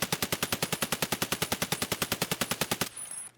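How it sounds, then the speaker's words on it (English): An RD-704 rifle loaded with US rounds fires in a video game: a long, evenly paced burst of about two dozen sharp, loud shots, then an abrupt stop and brief ringing tail. "here's the US rounds on the kind of like budget RD-704"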